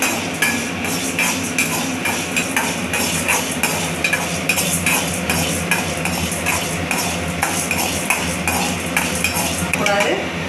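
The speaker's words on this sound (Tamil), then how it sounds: "பொன்னரமாக வறுக்கணும்." Ingredients for pirandai chutney are stirred and fried in a pan, with steady scraping and clinking of a utensil against metal over a continuous sizzle, close and fairly loud throughout.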